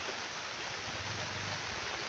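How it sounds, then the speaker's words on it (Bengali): Heavy rain pours down outside a roadside eatery, a steady, dense hiss that fills the whole clip at an even loudness with no voices. "বাইরে বৃষ্টি শুরু হয়ে গেছে, প্রচুর বৃষ্টি হচ্ছে বাইরে"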